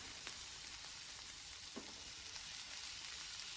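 Onions and curry leaves sizzle in hot oil as chopped radish is added for a Tamil radish egg fry, a steady low frying hiss with a few faint stirring clicks, no talking.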